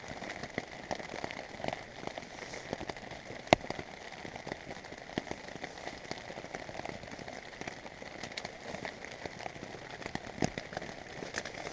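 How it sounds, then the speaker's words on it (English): Rain falling on a tent at a rainy campsite, a dense, steady patter with scattered sharper drop hits throughout, close and continuous with no talking. "I wish it was not raining."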